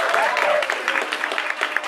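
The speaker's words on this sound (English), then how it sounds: "Give them a round of applause again" Applause for contest performers from a gathered audience: a short, dense burst of clapping that stays fairly loud throughout, with a voice partly mixed in.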